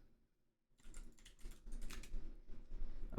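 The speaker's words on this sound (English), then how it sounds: "And then type." Typing on a computer keyboard starts after a brief silence and becomes a quick, close, continuous patter of key clicks.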